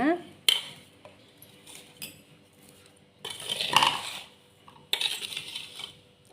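A metal spoon stirs sautéed coconut filling for sweet rava somas in a pan, with close scraping and sharp clinks against the metal in uneven bursts.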